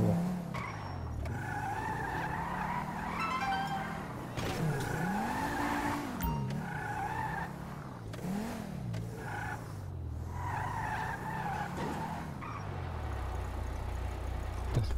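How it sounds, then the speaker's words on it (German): A car driven through the streets in the video game GTA V, its engine humming and shifting pitch as it speeds up and slows, with tire squeal on turns, steady and close throughout. "Wie in den alten GTAs nach Hause fahren."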